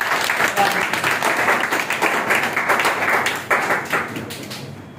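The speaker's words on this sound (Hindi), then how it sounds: "जोरदार तालियों के साथ" Enthusiastic applause from an audience at a World Skill Day program, dense clapping that swells and continues for several seconds before fading at the end, with some talk mixed in.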